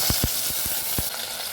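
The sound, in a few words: frying blended onion, garlic and ginger paste with cauliflower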